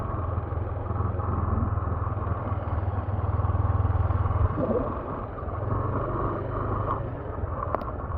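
A motorcycle engine drones at low pitch nearby, steady for several seconds, pausing briefly, then humming again, with faint background noise and no clear talk.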